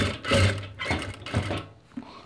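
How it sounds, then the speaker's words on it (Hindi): A sewing machine stitches the collar of a winter suit in a few short, close bursts of motor hum and needle chatter. Each burst lasts about half a second, and no voices are heard. "फिर आप इसको ऐसे करके सिलाई लगाएंगे।"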